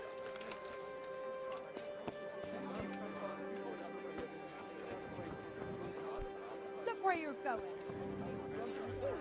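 Horse hooves clip-clop at a steady walking rhythm in the medieval game Kingdom Come: Deliverance, moderately close, while someone talks over them and a brief whinny rises near the end.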